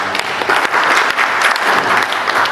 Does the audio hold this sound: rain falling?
no